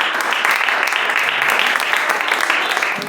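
Sustained applause from a church congregation, loud and steady with dense clapping filling the room for the full stretch, tapering slightly at the end.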